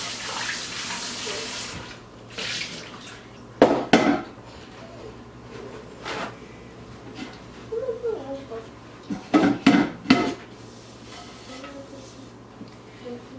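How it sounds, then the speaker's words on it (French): Running water splashes in a few short bursts as something is rinsed while making tilapia pepper soup, with quieter kitchen clatter between and faint voices underneath. "Je veux juste nettoyer ça, en fait rincer."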